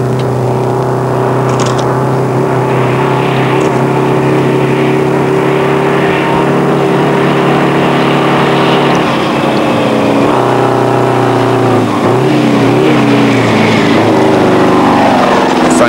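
Big red Perlini rally truck with a V8 Detroit diesel engine growling steadily up close, a loud continuous low drone that shifts slightly in pitch as it drifts through a rally raid.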